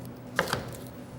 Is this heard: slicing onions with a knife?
yes